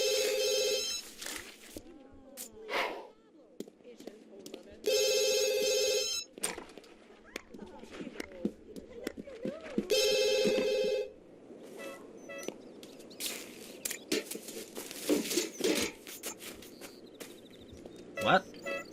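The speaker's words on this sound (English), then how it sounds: "Oh, for the love of God, now a phone call." In The Sims 2, a telephone rings in three evenly spaced bursts a few seconds apart, loud and electronic-sounding, while a person talks between and over the rings and game background sounds continue.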